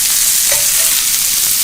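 Frozen vegetables sauté in a hot pan with a loud, dense crackle and the scrape of stirring, steady and close with no talking.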